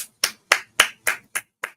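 Seven sharp hand claps in a steady, slightly slowing rhythm, close and crisp with silence between each one and no voices.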